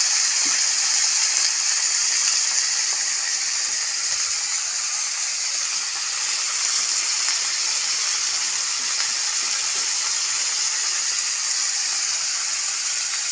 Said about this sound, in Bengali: এইভাবেই সবগুলো আমি ফ্রাই করে নেবো